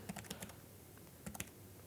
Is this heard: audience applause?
no